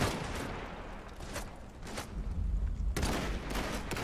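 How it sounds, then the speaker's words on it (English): Heavy machine gun fire in the dieselpunk strategy game Iron Harvest, a sustained rattle of distant bursts under battlefield rumble, growing denser near the end. "you probably don't want to mess around with that heavy machine gun"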